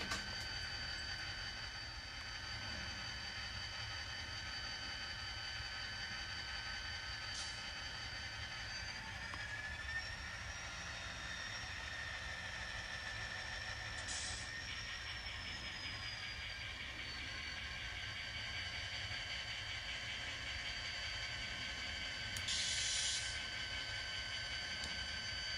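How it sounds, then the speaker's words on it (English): A freight train being shoved forward during switching moves, a steady distant rumble of rolling cars with a faint high metallic squeal drifting through. "we're going to push the whole train forward"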